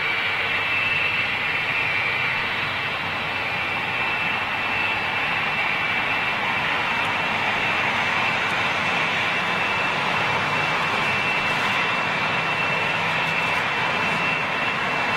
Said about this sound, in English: Rolls Royce RB211. High bypass ratio turbofan.